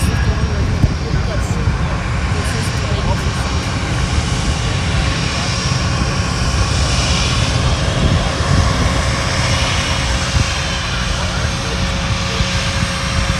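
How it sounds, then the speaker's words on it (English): A Southwest Boeing 737-800 airliner from Austin arriving at Fort Lauderdale airport, its jet engines a loud, steady roar that fills the whole stretch without a break. "Our next arrival is Southwest Flight 2581 from Austin,"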